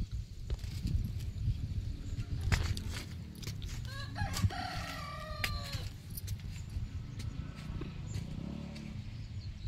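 Chickens cluck and call in short bursts outdoors, moderately distant, amid low background rumble and scattered clicks.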